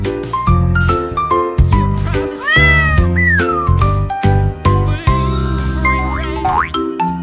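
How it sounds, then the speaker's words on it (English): A cartoon cat meows in a kids' alphabet song, with several bright, repeated meows and a springy boing over cheerful, loud music. "C is for cat."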